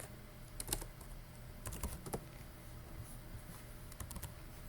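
Computer keyboard typing in scattered bursts of quick, crisp keystrokes with short pauses between, close and fairly quiet over a soft steady room hum, no voices.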